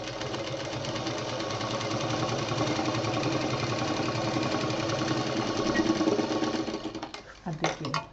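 A sewing machine runs continuously while stitching quilt pieces, a steady fast mechanical whir up close that stops abruptly near the end, followed by a brief voice.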